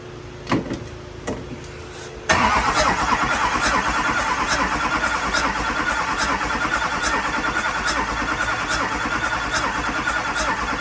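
A few clicks and mechanical clatters, then an LBZ Duramax diesel engine in a drag truck cranks and catches, settling into a loud, steady rattling idle with rhythmic knocking.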